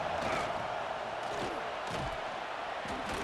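Home crowd roaring at a Michigan versus Clemson football game, a steady wash of stadium noise with a few sharp bangs and shouts rising out of it, under a commentator's voice.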